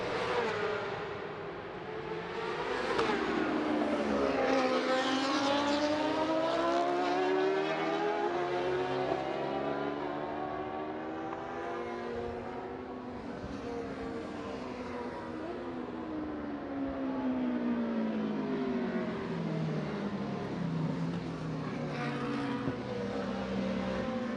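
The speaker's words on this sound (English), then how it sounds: "The bikes just gently making their way into position." Racing motorcycles moving into position at the Macau Grand Prix street circuit, a continuous drone of engines with no break, revs slowly rising and falling as the bikes pass at moderate distance.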